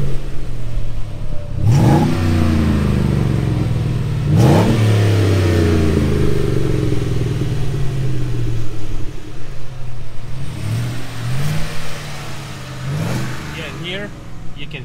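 A Chevrolet Colorado pickup engine with a hand-built titanium exhaust revs hard several times to about 2500 RPM, each blip rising and falling with a raspy exhaust note, and voices talk faintly between the revs.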